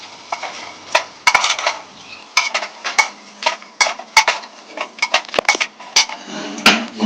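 Chicken is stirred into a biryani marinade in a pot, with a spoon clinking and knocking against the vessel in close, irregular bursts and a soft wet mixing sound between hits.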